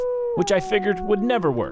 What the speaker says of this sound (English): we were surprised to hear a wolf howl